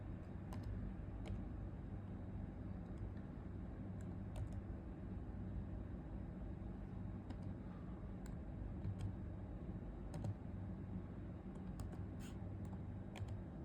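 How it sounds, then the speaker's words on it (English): Someone types a long password on a MacBook keyboard, producing quiet, irregular key clicks in short runs over a steady low background hum. "we are typing the password."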